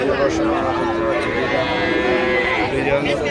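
A bull calf moos in drawn-out, sustained calls over a busy background of people talking nearby at a livestock market in Joypurhat.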